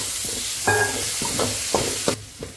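Onions and mushrooms sizzle steadily in a hot pan, with a few soft scraping stirs breaking through the constant frying hiss.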